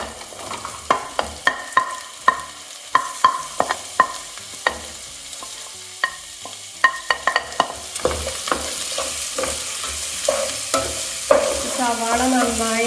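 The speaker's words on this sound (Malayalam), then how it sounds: "അതിലോട്ട് നമുക്ക് ഈ സവാള ചേർത്ത് കൊടുക്കാം" A spoon taps and scrapes in a rhythm through ginger, garlic and green chilli frying in oil for chicken varattu, then sliced onions go in and a louder, fuller sizzle rises under continued stirring.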